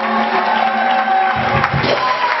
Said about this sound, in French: on va applaudir pour maman